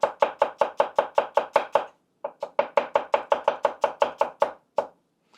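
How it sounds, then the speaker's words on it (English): Crisp, rhythmic knife strokes slicing a trimmed shallot pole to pole on a cutting board, about eighteen evenly spaced cuts in two runs with a short pause between, close and clear with no talking. "you're going to keep your knife aligned pole to pole and slice that way"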